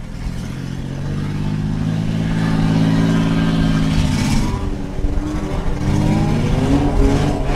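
An autocross race car, number 629, running a lap on an ice track at an arena event in Glenwood, Minnesota, its engine held buzzing on the rev limiter in a loud sustained drone, with a brief dip as it comes off and climbs back.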